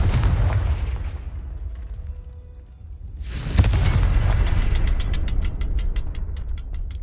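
The Confringo blasting spell in Hogwarts Legacy explodes in one sharp, loud boom with a rumbling tail, followed by crackling, clicking game effects.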